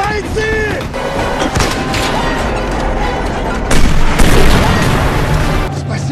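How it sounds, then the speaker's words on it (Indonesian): Artillery fire and explosions in a war film about Soviet soldiers fighting German troops, with loud continuous booms and blasts layered over battle noise and a short surge of heavier impacts near the middle, with voices mixed in. "Serangan artileri kembali dilanjutkan demi menghalau prajurit Jerman yang ingin menguasai wilayah tersebut."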